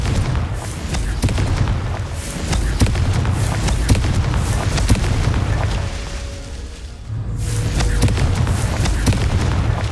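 Confringo fire spell blasting in Hogwarts Legacy: a run of heavy booming explosions with sharp pops and rumbling thuds, loud and continuous, briefly easing before surging again.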